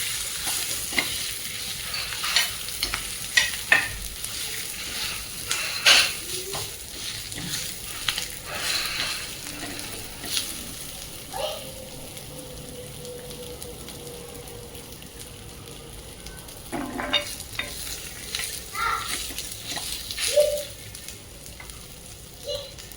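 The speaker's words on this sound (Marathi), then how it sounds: "कांदा ते आता असं पळीने दाबून घ्यायचं आहे आणि तेलामध्ये छानसं परतून घ्यायचं" Garlic and onion fry in oil while being pressed and stirred with a ladle, producing a steady sizzle with repeated scraping and clinking strokes against the pan, and no talking.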